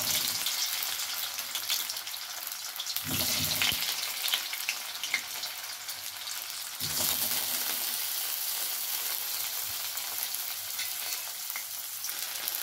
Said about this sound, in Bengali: তেলটা গরম হয়েছে, টোফুটাকে এবার ভেজে নেব